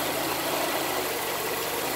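A 1998 Honda Accord 2.3L engine with an EGR insufficient flow fault idles very roughly, a steady low rumble with faint knocking vibration, close by and alone.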